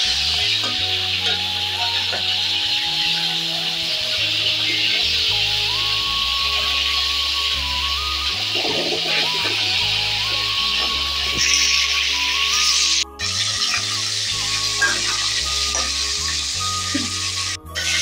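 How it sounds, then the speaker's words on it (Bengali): Fish head frying in hot oil while being flipped for a Bengali cabbage dish, giving a loud, steady sizzle with scraping stir clatter throughout, a faint bird chirp in the background. "মাছের মাথার এক পিঠ ভাজা হয়ে গেছে, আর একটু উল্টে দিচ্ছি"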